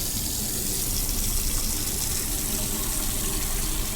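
Tap water runs steadily into a container at room temperature, a continuous broadband gush filling in the autopsy simulator game, alone with no voices.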